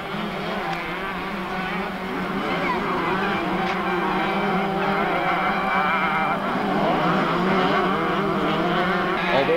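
Kawasaki enduro motorcycles racing in the 1994 ISDE Six Days Enduro in the USA, a dense, buzzing engine whine that rises and falls continuously under a faint background of voices.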